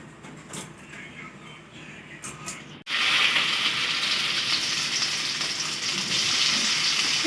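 Boiled potato pieces drop into hot oil in a pan for a vegetarian papaya dish, and after a quieter stretch a loud, steady, close sizzle erupts and fills the rest of the clip with no talking.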